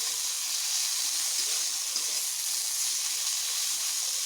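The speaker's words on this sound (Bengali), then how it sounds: "আমি আরেকটু এগুলোকে একটু ভেজে নেব।" Pumpkin pieces sizzling in a pan, a steady hissing fry that holds even and close throughout with no pauses.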